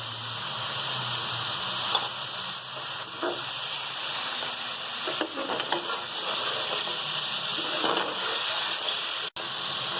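Tomatoes frying in karahi masala for a chicken Shinwari karahi give a steady, loud sizzle, broken by the soft scrapes and clicks of stirring.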